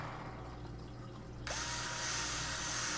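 A power drill bores a hole in a homemade fish fry filter, kicking in abruptly and then running as a steady, close, loud whine that continues to the end.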